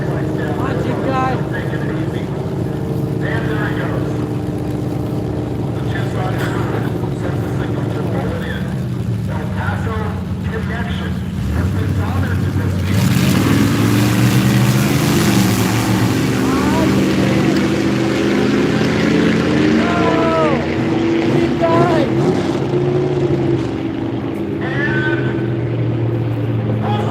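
Postal jeep engine at an amateur beater drag race, a loud engine revving and roaring up, heard outdoors with people talking over it.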